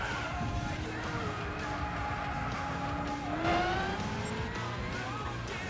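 A race car's engine in Gran Turismo 6 drones steadily at high revs, with a brief rising surge partway through, mixed with other game noise at moderate level.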